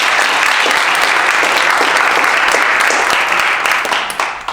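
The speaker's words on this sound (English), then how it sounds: "So let's give them a round of applause." Sustained audience applause fills a hall after a panel discussion on equity in research and evaluation. It is loud, dense and steady, and thins slightly toward the end.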